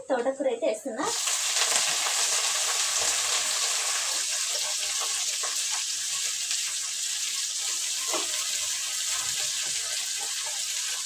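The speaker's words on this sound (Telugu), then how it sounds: "ఇంకా ముందుగా కడిగి పెట్టిన తోటకూర అయితే వేస్తున్నా." Washed amaranth leaves hit a hot pan of onions, bursting into a loud sizzle that settles into a steady frying hiss with faint stirring scrapes.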